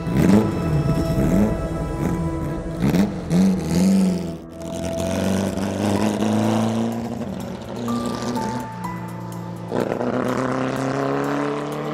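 A 1960 Porsche 718 RS60 race car, winner of the Targa Florio, drives on the Sicilian track, its engine loud and close, rising and falling through revs and gear changes.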